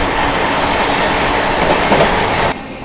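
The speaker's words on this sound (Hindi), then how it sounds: "overtaking Awadh express" Howrah Rajdhani Express train running at speed while overtaking the Awadh Express, a loud continuous rushing rumble with clattering wheels that drops off abruptly near the end.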